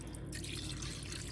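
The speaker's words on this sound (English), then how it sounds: "now I am going to pour my" Juice poured into a crock pot makes a steady, soft liquid trickle and splash, faint and close, continuing evenly for the whole moment with no talking.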